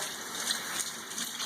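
Hot water gushes steadily from a kitchen tap as utensils are rinsed under it, a continuous near rush with no talk over it.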